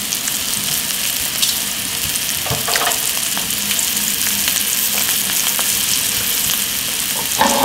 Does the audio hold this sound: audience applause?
no